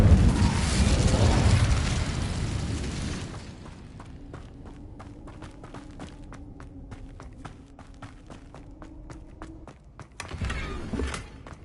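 The Incendio fire spell is cast in Hogwarts Legacy: a loud roaring burst of flame for about three seconds, then quieter crackling and scattered sharp snaps, with another short whoosh near the end.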